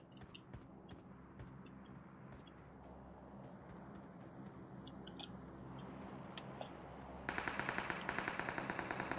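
Rapid automatic gunfire in an online shooter game, bursts of sharp cracks over a steady noisy background, growing denser and louder toward the end.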